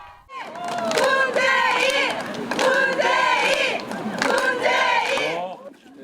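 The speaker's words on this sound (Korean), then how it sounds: "지지자들의 환호와 연호 속에 차에서 내립니다" A large crowd of political supporters at an outdoor campaign event cheers and chants loudly and continuously, voices rising in rhythmic waves of shouting across the whole stretch.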